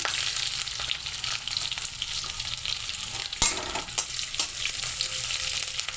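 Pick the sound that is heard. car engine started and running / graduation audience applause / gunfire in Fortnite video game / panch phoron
panch phoron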